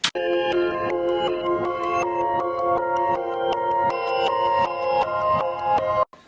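A steady run of reversed melodic notes that swell in rather than strike, one after another, cutting off abruptly at the end.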